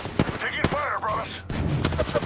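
Bursts of gunfire crackle in the Apex Legends video game, rapid shots mixed with a game character's voice and a short sharp burst near the end.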